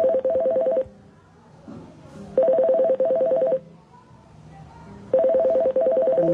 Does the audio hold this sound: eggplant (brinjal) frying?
no